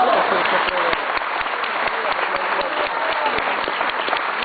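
An audience claps steadily in appreciation for a town's people at a trova music gathering, a dense, continuous round of applause that holds at an even level throughout.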